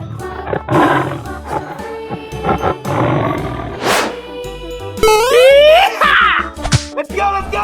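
A tiger roar from a 3D animal slide game, loud and sustained with a rising and falling growl, mixed with game music, sound effects and cartoonish voices.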